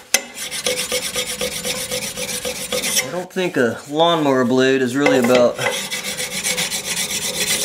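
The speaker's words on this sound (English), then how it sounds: "This really polishes it out." A metal file rasps along a lawnmower blade edge during first-of-season mower maintenance, giving steady close scraping strokes that continue under a brief stretch of talk.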